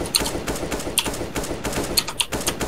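Gunfire in Counter-Strike, rapid clicky shots in quick bursts, fairly close, with sharp transients over a busy game background.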